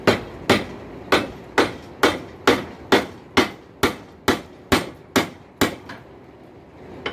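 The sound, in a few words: hammering a hot wrench on an anvil to straighten it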